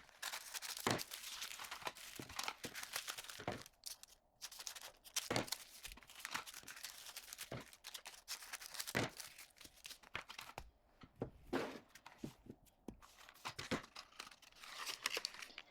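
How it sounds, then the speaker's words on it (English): Paper being cut into small squares and folded into little powder packs makes soft, close crinkling, rustling and occasional snipping, quiet and irregular throughout. "I'm just cutting it up into small squares and then I'm going to fold them and put each dose inside a little powder pack"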